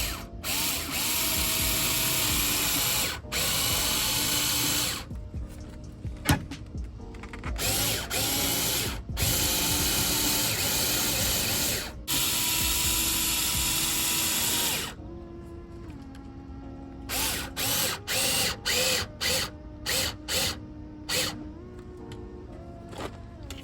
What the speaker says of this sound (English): So then what we'll do is we'll go ahead and drill.